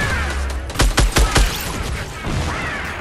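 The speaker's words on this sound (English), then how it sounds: "He's shooting a rocket at me." A rocket launcher firing in Fortnite Battle Royale: a quick volley of four loud, sharp blasts over about half a second, rising out of a steady game background.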